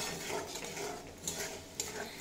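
Potatoes being stirred and fried with spices in a pan for a dal posto dish, soft sizzling under faint scraping stir strokes and a couple of light utensil clicks.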